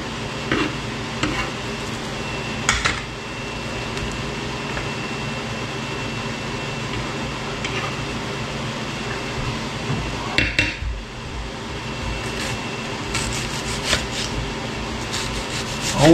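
A knife cuts steadily through onions on a board, then they go into a pan for a catfish stew. The chopping is close, continuous and rasping, with a few sharper knocks.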